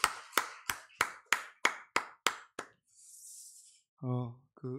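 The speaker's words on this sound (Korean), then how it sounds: "우리에게 은혜 주실 주님께 우리 영광의 박수 돌리고 말씀 듣겠습니다" A church congregation at a Wednesday worship service claps in praise, about nine sharp, loud claps in a steady unison beat, followed by a brief hiss and then a voice speaking.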